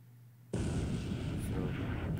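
Torpedo hit on a destroyer in the War in the Pacific naval strategy game: a sudden loud, deep explosion bursts in after a quiet moment and rumbles on steadily for nearly two seconds.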